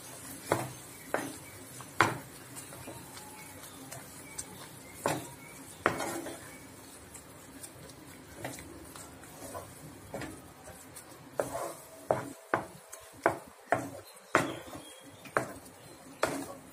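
A sweet suzhiyam filling sautéed and stirred in a pan, heard as sharp intermittent spoon clanks and scrapes against metal over a faint background hiss, growing quicker and more frequent near the end.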